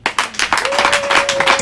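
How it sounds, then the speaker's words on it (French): An audience at a church children's event greeting people taking their places, with a burst of quick dense clapping close by and a faint held tone beneath. "Sous vos acclamations."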